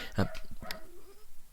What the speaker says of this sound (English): That's a dog outside.